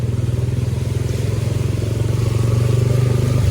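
A motorcycle pushing through deep flood water on a submerged road, its engine thrumming in a loud, steady pulsing drone close by that builds slightly toward the end, with no talk over it.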